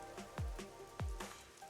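Rain falling in the video game Master Detective Archives: Rain Code, heard as soft, low-level patter with a few distinct heavier drop impacts spaced irregularly over a quiet background.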